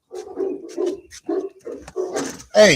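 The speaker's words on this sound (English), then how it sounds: "As you guys hear my dogs go off." Dogs bark in short, loud bursts outdoors near a gate, a final sharp volley closing it out, while someone speaks between the barks.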